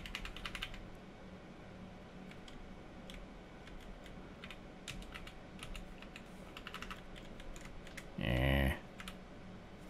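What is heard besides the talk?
computer keyboard arrow keys being pressed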